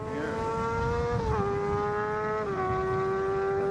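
A fast motorcycle roars past while popping a wheelie, a steady high-pitched engine whine whose pitch drops in steps as it passes, loud and continuous with no talking.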